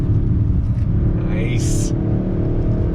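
A 2021 Kia K5 GT sports sedan pulls hard from a roll in second gear at about 4,000 RPM, its engine a steady, loud, close drone with road rumble under it for the whole stretch.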